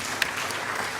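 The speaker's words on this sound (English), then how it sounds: "Let's give a clap to Dr." A brief burst of audience clapping at a formal event marking International Missing Children's Day, steady and even across the whole moment with no voices over it.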